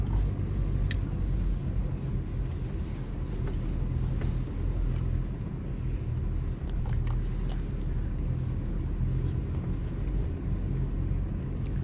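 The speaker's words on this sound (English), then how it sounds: "5 kilometers of the thickest sand ever to drive through." A car drives through thick desert sand at Sossusvlei in Namibia, giving a steady low rumble of engine and tyres that stays constant and close, with faint knocks and no talking.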